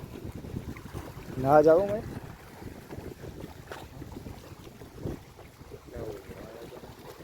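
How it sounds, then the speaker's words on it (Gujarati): Water rushes steadily at the brimming Mokeshvar dam as a soft, broad hiss, mixed with gusty wind buffeting the microphone, while a few people talk quietly nearby. "પાણીનો અવાજ મસ્ત આવે"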